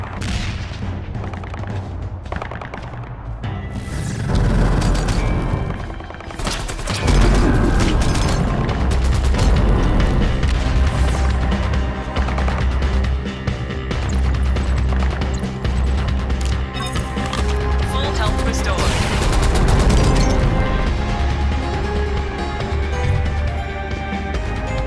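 Heavy gunfire and explosive booms from the VR shooter Vertigo 2 on PSVR2, with dense repeated blasts and crashes sounding almost continuously and loud throughout.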